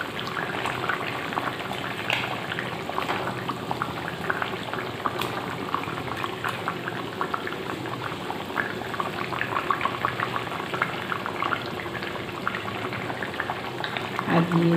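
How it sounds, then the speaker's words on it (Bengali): Fish fries in hot oil in a pan, a continuous close sizzle and crackle with dense bubbling and popping that stays steady throughout. "এবার মাছগুলো দিয়ে দিচ্ছি।"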